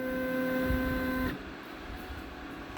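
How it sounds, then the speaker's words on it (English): An engraving machine spindle is raised, giving a steady motor whine with distinct tonal hum that stops abruptly partway through and leaves only faint room noise. "Now I'm going to raise the spindle."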